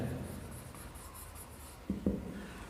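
Pen writing share figures by hand on paper, a steady soft scratching with a couple of firmer strokes near the end, close and quiet, with no talking.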